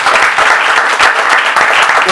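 A church congregation at a service claps for Jesus, steady enthusiastic applause from many hands that fills the room throughout, with some raised voices mixed in.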